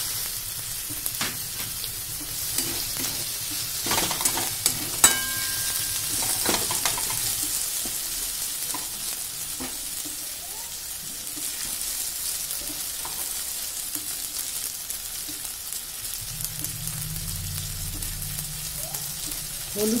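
Chopped tomato fries in a pan for a new potato dum, giving a continuous close sizzle with occasional stirring clicks and scrapes and a low background hum at times.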